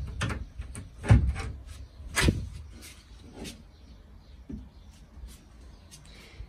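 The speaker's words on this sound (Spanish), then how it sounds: "Esta puerta suena, como veis." A new wooden garden cabinet door gives a few soft knocks and creaks, with two sharper clunks among quieter rattles, close and alone without talk.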